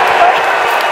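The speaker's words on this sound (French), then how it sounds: "C'est un petit applaudissement." A short burst of modest applause and crowd noise from the audience at a stage show at the Grand Rex, the 2017 premiere of the Noob film. It holds steady and fairly loud for about a second, with a voice mixed in.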